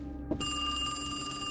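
A telephone bell starts ringing partway through, inside a horror video game. It rings steadily and clearly over a low ambient drone and keeps going to the end, with no speech.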